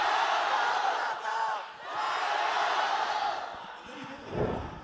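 Esports arena crowd at a Valorant match roaring for FPX, a dense surging chant that swells and dips in waves, with a brief voice breaking in near the end.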